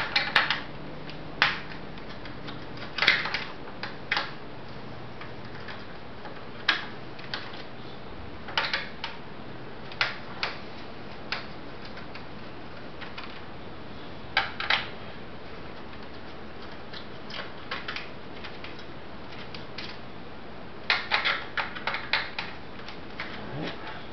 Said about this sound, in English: Let's take those screws out.